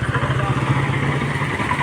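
A scooter carrying four riders passes on a road, its mid-pitched engine humming steadily with some clatter, nearby and continuous, under faint background noise.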